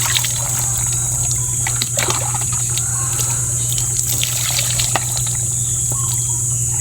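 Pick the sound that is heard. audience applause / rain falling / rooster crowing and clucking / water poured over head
water poured over head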